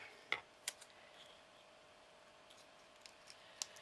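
Scissors snip paper for a handmade miniature book in a few sharp, quiet clicks spaced apart, close up in a hushed room.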